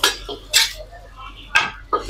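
Shallots, ginger and tomato sautéing in a pan for crispy sardine sambal with cracked egg, heard as a few sharp metallic clinks of a utensil against the pan over a low sizzle.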